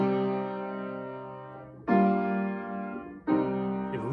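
Piano chords struck in a minor key, a five-to-one progression: three sustained chords, each ringing out and decaying before the next is played, clear and close with no voices.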